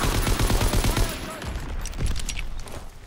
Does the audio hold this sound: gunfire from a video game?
yes